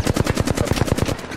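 Rapid automatic gunfire in the Apex Legends video game rattles out as a fast, loud string of about a dozen sharp shots in quick, even rhythm, close and dominant with no talk over it.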